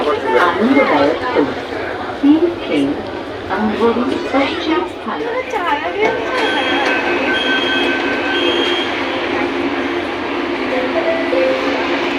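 A Mumbai metro train rumbles and clatters along with wheel squeals, while people chat nearby over the steady ride noise.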